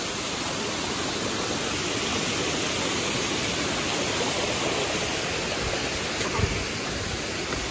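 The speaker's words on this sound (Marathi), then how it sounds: "इथं इतके धबधबे आहेत की खूप जास्त पाऊस आहे या भागामध्ये" Waterfalls in dense, rain-soaked forest on the Andharban trek pour out a steady, broadband roar of rushing water that stays even and continuous throughout, with no voices.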